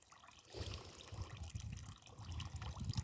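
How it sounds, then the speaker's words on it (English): Water trickling and draining away into the dirt of a soakaway, a faint, steady gurgling flow with low murmuring beneath, heard close and without talk. "I can see how quickly the water is draining away through the dirt"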